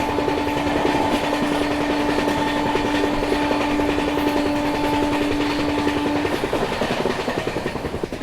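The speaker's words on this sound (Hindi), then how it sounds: "तो ये क्रॉसिंग हो रही है सेंट्रल रेलवेज की राजधानी के साथ और ये ट्रेन ओवरटेक करने वाली आगे गोंडवाना एक्सप्रेस को।" A Central Railway Rajdhani Express rushes past alongside the Gondwana Express on Indian rails, a loud, continuous close rumble with rapid wheel clatter and a steady high whine that fades slightly at the end.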